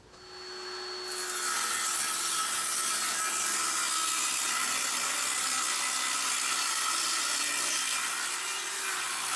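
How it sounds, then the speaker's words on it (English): A table saw rips a wooden board to width: after a brief lower whir, the blade bites in and a loud, bright, sustained cutting hiss holds steady, with no talking. "For the width, I will rip it through the table saw"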